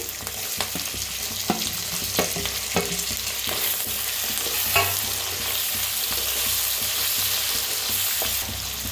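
Onion fries in a pan for pasta masala, giving a steady close sizzle broken by the scrape and knock of stirring, with no voices.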